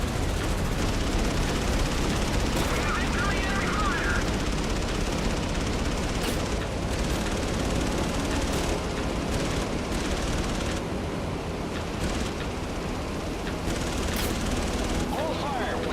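Sustained gunfire from the naval combat game Battlestations Pearl Harbor, a dense continuous rattle of machine guns and explosions filling the whole stretch, loud and unbroken.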